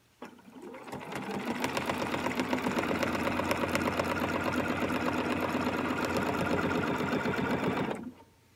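A sewing machine stitches the center vein of a dogwood quilt, starting up abruptly and running at a steady fast whir for about seven seconds, close and loud, before stopping cleanly.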